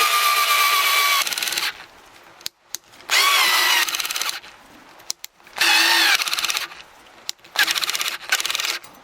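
A slow power tool drives screws into a budget kitchen wall cabinet during installation: several loud, close whirring bursts that start and stop in short runs, separated by brief quiet gaps.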